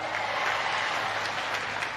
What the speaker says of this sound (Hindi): तालियां बजा के स्वागत करेंगे फिर सबका।